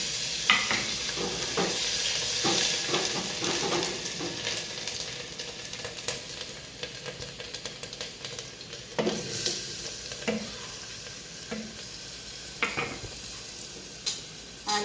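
Cumin, mustard seed, bay leaf, salt, dry red chilli, ginger and green chilli tempering in hot oil for a khichdi and kadhi, a steady close sizzle broken by crackles, spits and occasional scraping stirs.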